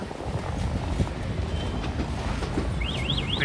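A train rolls along an elevated track on a Puducherry to Hyderabad journey, giving a steady low rumble and wheel clatter heard from on board, with a faint whistle-like tone near the end and no speech.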